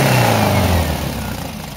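A 1964 Meyers Manx beach buggy with a changed wing-style exhaust revs loud and close, its deep engine note dropping from a high blip back toward idle, with no talk over it.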